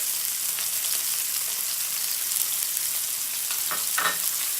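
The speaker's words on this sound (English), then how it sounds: "we're going to add our garlic to the butter" Garlic hitting melted butter in a pan while cooking steak, giving a steady, even sizzle that holds throughout with a couple of brief louder pops near the end, with no voices.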